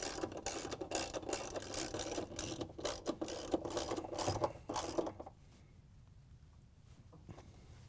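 A 3/8 inch socket ratchet clicks in quick rapid bursts as bolts are tightened on a Whirlpool washer tub, close and fairly quiet, for about five seconds before fading to near silence.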